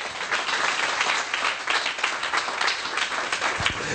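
Church congregation applauding during a sermon, a dense, even wash of many hands clapping continuously for a few seconds at moderate distance.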